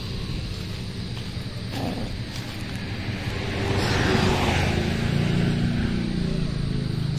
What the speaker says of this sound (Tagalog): Mga daming dumadaan na mga sasakyan papuntang Tayog sa Nicolas